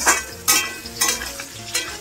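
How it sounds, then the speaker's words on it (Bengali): Potatoes fry in a pan with a close, steady sizzle, punctuated by four rhythmic bursts as a spatula scrapes and turns them roughly every half second. "এদিকে আলু ভাজা হচ্ছে, আর এদিকে হচ্ছে বেগুন।"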